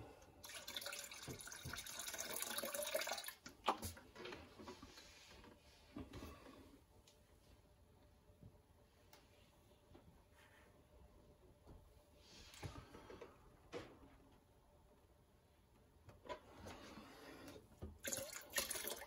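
Water splashes and trickles into a peach brandy mash in short bursts, quiet pauses between pours, fairly faint overall.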